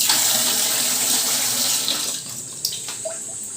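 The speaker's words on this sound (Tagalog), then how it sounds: "Malakas tubig dito guys." Strong water gushes steadily from a tap in a campsite toilet room, a loud close rushing stream that eases slightly near the end with a few small knocks and splashes.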